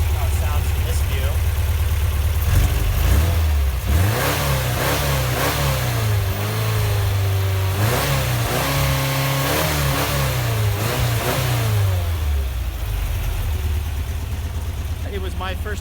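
Rebuilt air-cooled VW Type 4 engine in a Vanagon idling, then revved up several times with rising and falling pitch, close and loud, with someone talking over it.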